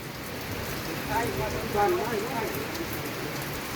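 Rain falls in a rural village and makes a constant broadband hiss of drops on surfaces. A few faint bird-like chirps sound briefly in the middle.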